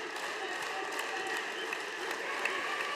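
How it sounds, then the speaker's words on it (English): Crowd at a New Japan pro wrestling event in Miami, The New Beginning USA 2020, applauding and cheering in a dense, continuous roar of clapping and voices that holds steady throughout. "Miami cheering him on."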